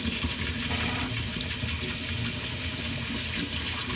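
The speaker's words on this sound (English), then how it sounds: "I just go ahead and run the water, wait until it gets hot" Water from a tap pours steadily into a kitchen sink, a continuous hissing splash that holds even from start to finish with no talking.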